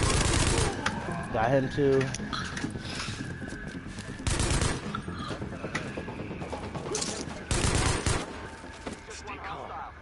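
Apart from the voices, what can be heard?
LMG light machine gun firing in Tom Clancy's video game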